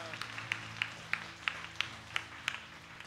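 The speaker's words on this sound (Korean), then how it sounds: "우리 한번 박수 영광 돌리십시오." A church congregation at a Thursday worship meeting claps in a steady rhythm, roughly three claps per second. The claps are faint and distant over a low hum.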